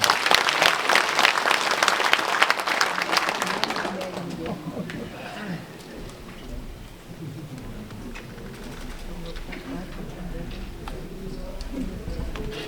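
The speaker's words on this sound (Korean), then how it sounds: "여러분 큰 박수 부탁드립니다" Enthusiastic applause from a large audience fills the hall at a joint campaign speech event for mayoral candidates, loud and dense at first and then thinning out as voices and scattered claps linger.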